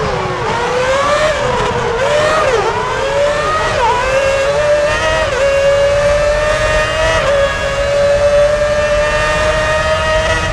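Formula 1 race car engine in the video game F1 2006 at the Japanese Grand Prix, a loud, sustained high-pitched whine climbing steadily through the gears with brief dips, with other cars buzzing close by.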